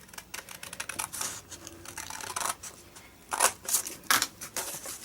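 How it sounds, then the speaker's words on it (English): Scissors snip through folded paper for a zine in a series of short, close, crisp cuts with uneven pauses between them, with no one speaking. "with a pair of scissors, I'm going to show you how you can do it with scissors"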